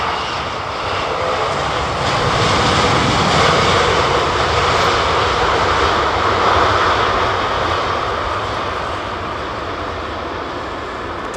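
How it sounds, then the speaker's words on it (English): An airliner lands at London Heathrow, its engines roaring steadily at idle reverse thrust; the loud, broad rumble holds throughout and swells slightly midway. "that's kind of idle reverse that you got going on there"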